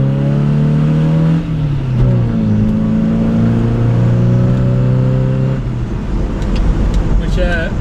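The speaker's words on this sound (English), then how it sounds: "It does seem to make a bit of a better accelerating car and a better noise." An MGB GT engine accelerates, its tone climbing in steady harmonic bands before easing off, loud and close, after ignition tuning and clutch work; no talk.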